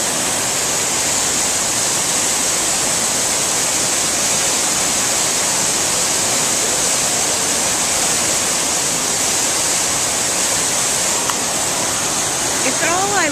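A waterfall heard from up close: a loud, steady, broadband roar of rushing water that stays constant throughout without pause, with faint speech buried in the noise.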